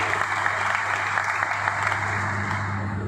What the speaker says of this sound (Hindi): आप लोगों के लिए तालियां बजाइए।